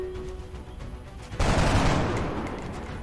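Gunfire from a soldier in the XCOM video game: a quiet lead-in, then a sudden loud burst of rapid shots that rings out and slowly fades over a couple of seconds.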